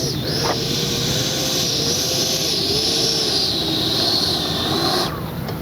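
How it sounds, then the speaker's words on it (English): Freewing Avanti S 80mm electric ducted-fan RC jet making a fast speed-run pass, a steady loud whooshing roar with a high whine that sweeps in pitch as it flies by, cutting off near the end. "Just an amazing flying jet."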